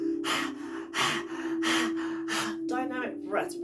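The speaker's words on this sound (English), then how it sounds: "We're doing a breathing exercise called Simha Kriya" Lion-breath yoga exercise with the tongue out: a series of about five strong, forceful breaths in a steady rhythm, close and loud, over a faint steady hum, ending with quicker, rougher exhales.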